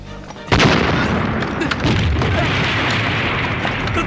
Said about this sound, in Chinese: 热手雷